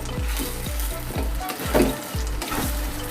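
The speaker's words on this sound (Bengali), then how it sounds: "সব কড়ার মধ্যে দিয়ে দিচ্ছি। দিয়ে পেঁয়াজের সাথে ভালো করে মিশিয়ে নিতে হবে।" Mashed drumstick (sajne) greens being stirred and fried with onions in a kadai, a steady loud sizzle broken by rhythmic scraping thumps of the spatula against the pan.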